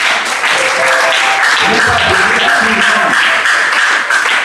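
Audience applause in a church gathering, a dense sustained burst of many hands clapping, loud and close, lasting the whole moment with faint voices mixed in.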